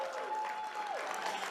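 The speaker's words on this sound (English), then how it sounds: "Keep applauding, folks." Audience applause at an evening charity fundraiser, a steady wash of clapping from a crowd with a faint sustained tone running through it, moderately loud throughout.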